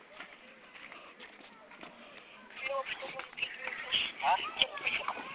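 A goat runs out through a gate, its hooves clattering in a quick, uneven patter that grows louder, while people talk excitedly over it.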